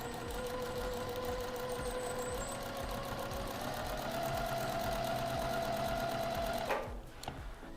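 A sewing machine stitches steadily and continuously at close range while a piecework butterfly jacket is being sewn, its rapid rhythmic whirring holding a constant pace before a brief rattle near the end.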